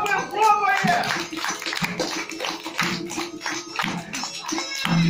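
Children clap their hands in repeated bursts at a summer camp in Ekaterinburg, with busy chatter and voices running through and over the rhythmic claps.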